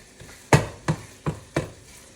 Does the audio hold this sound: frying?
yes